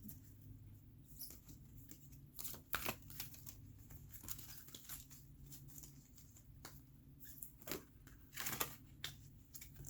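Quiet, close shuffling of tarot cards: soft riffles and brushing snaps recur irregularly over a low steady background hum.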